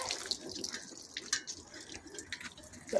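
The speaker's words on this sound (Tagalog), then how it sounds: "Ayan, sasabuhin natin ng mainit na tubig." Hot water poured onto a frozen car windshield on a frosty morning gives a soft, close, steady trickle and splashing with light drips, and no one speaks.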